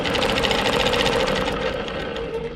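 A longarm quilting machine stitching lines between points on a star quilt, a continuous fast mechanical hum with rapid needle pulses, steady and close with no talking.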